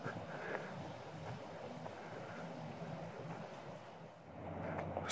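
Wind blows through trees in a cemetery, a soft, steady airy rush heard alone, swelling slightly toward the end.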